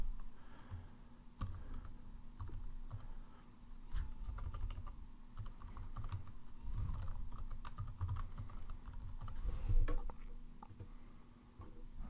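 Steady typing on a computer keyboard, a continuous run of soft, close key clicks with a faint background hum and no voices.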